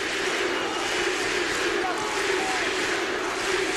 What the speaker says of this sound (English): Sellout crowd coming to life here. And plenty to cheer about.